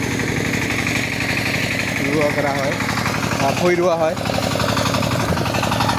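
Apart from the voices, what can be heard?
tractor ploughing field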